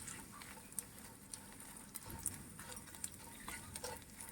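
Edible gum (gond) roasts in ghee in a pan over a medium flame, giving a faint, soft sizzle broken by small scraping stirs and light clicks of a spoon.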